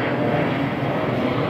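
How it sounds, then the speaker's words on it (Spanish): Airplanes pass low overhead near LaGuardia Airport in Queens, a loud continuous engine roar filling the whole moment without talk. "Oís muchísimos aviones porque el aeropuerto de La Guardia está muy cerca de aquí."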